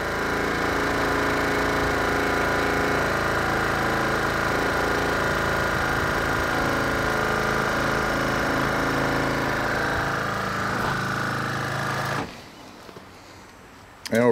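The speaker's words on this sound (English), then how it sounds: "Ignore my rattling compressor." A rattling, worn-out air suspension compressor on a 1998 Lincoln Mark VIII runs as a steady, loud mechanical drone with a rattly buzz for about twelve seconds, then cuts off abruptly into near silence.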